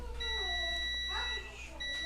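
A multimeter continuity tester probing a line of capacitors on a Lenovo IdeaPad 330 laptop motherboard gives a sustained high beep, a short gap and a second beep, with someone talking quietly underneath.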